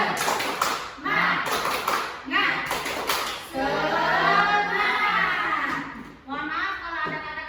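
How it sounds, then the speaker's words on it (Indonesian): Schoolchildren in a teaching-practice class in Lampung perform a rhythmic clapping chant: quick bursts of unison claps give way to voices chanting together, with claps and voices alternating in a lively, close pattern. "mari kita tepuk semangat dulu biar tambah semangat."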